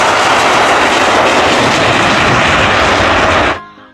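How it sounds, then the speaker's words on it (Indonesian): A toy airplane giving off a loud, steady recorded jet-engine roar that holds for several seconds and then cuts off sharply, with no talk over it. "selanjutnya di sini ada pesawat terbang"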